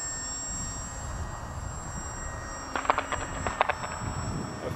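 H-King Savage Bobber RC model airplane flying, its electric motor a steady thin whine over outdoor wind noise, joined partway through by a cluster of sharp clicks and taps nearby.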